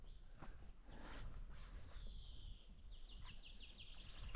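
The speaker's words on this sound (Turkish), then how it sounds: "kuş sesleri harika." Birds singing outdoors at the Karabel mountain pass: faint, rapid chirps and trills in the second half over quiet ambient noise, with soft footsteps nearby.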